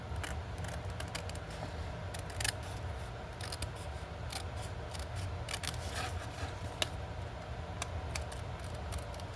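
Scissors trim paper for an envelope craft, a close series of crisp snips and slicing strokes at an uneven rhythm over faint room background, with no talking.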